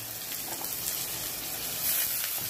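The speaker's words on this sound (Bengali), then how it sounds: "এখন আলুগুলো এটার সাথে কষিয়ে নেব।" Potatoes and onions fry together in a pan, giving a steady, dense sizzle that stays loud and even throughout with no voices over it.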